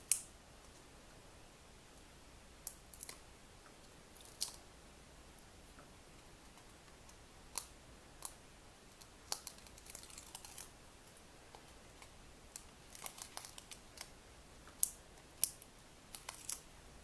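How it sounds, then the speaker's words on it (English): Backing papers peeled off card stickers for a cupcake birthday card, heard as scattered faint crinkly snips and small paper ticks, mostly quiet with brief sharp bursts near the end. "See if I can peel off those backings."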